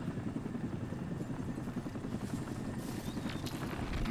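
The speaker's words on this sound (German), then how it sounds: "Da höre ich einen Helikopter" Helicopter in the video game Crysis, a steady low rotor drone that holds at an even loudness throughout without any break, heard under a dense layer of game ambience with no voices.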